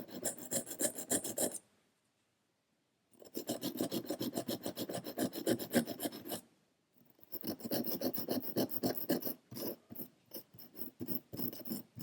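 A blade scrapes back and forth across a sharpening stone in quick rhythmic rasping strokes, three bursts split by short pauses, close and fairly quiet.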